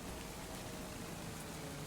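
Steady rainfall in Farming Simulator 25, a constant soft hiss of drops on surfaces across the whole stretch, even and unbroken with no voices over it.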